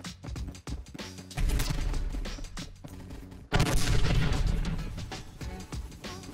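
Loud gunfire and explosions in the Roblox shooter Phantom Forces crack and boom in rapid bursts, dense and chaotic, with a heavy blast near the middle.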